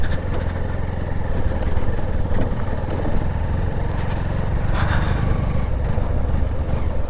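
Motorcycle climbing a steep stony mountain road near Kodaikanal on throttle, a continuous low engine drone with heavy wind rumble throughout, close and loud, no speech.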